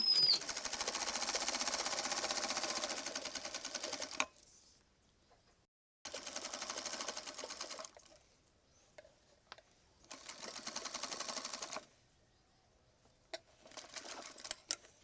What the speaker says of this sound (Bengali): এই সেলাইটা আমরা ডাবলে দিয়ে নিব দুইটা করে সেলাই দিতে হবে